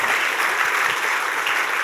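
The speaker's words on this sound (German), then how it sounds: "Geben wir ihnen einen lauten Applaus aus dem Kalkofen raus." Loud, dense applause from a church congregation during a sermon broadcast, steady and sustained throughout without any talking over it.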